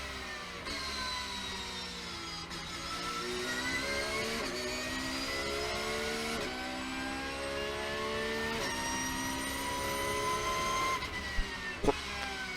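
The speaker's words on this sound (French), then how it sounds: "Son de la Porsche aussi" Porsche race car engine at full throttle, a high, faint wailing note climbing repeatedly through the gears, with brief dips at each shift over roughly twelve seconds.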